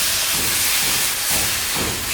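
Loud, continuous steam hiss close by as water goes into a pan of sautéed potato and cauliflower, with slight surges in intensity.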